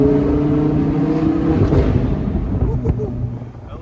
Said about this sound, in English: A little pop backfire, little upshift blips are crazy.